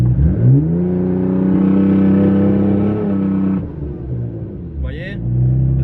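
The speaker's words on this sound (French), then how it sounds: "Vous allez écouter un peu le son que ça fait quand on met le launch control et quand il lag." A turbocharged car engine revs on launch control and holds at high, steady pitch while stationary, building about 1.5 bar of boost, then drops and rises again, loud and close, with a brief whine near the end.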